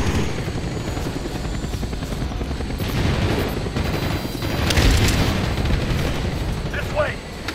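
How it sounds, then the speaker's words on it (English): Helicopters in a Call of Duty: Black Ops campaign battle, a loud continuous rotor thrum mixed with bursts of gunfire and explosions, with shouted voices under the din. "We can't move until we take out those choppers!"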